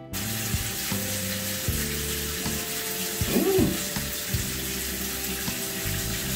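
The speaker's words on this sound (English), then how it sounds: "Wash that bad boy out." Tap water runs steadily into a bathroom sink during face washing, a constant rushing hiss at close range with a brief splashing swell midway.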